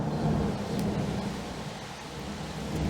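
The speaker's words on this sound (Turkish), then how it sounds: "Güzel bir yağmur yağıyor maşallah Allah bereket versin." Steady rain pours outdoors with a continuous broadband hiss and a low rumbling undertone, holding at an even, fairly loud level throughout without any voices.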